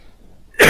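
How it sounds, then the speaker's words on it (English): A single sharp, loud human cough bursts out close to the microphone at the very end, after a near-silent pause. "I can't stop coughing."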